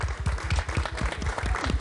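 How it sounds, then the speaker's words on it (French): A studio audience at a Canal Algérie Eid special claps for the orchestra, a brief, moderately quiet patter of hands with distinct individual claps over a low musical rumble. "On l'applaudit encore une fois l'orchestre."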